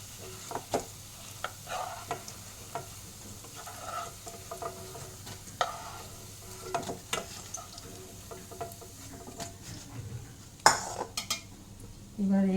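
Fried soybean muitha being lifted out of an oil pan: scattered metal utensil clinks and scrapes over a faint, quiet sizzle, ending in a louder clatter.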